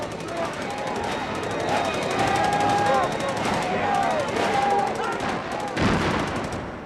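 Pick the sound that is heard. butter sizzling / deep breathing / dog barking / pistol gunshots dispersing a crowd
pistol gunshots dispersing a crowd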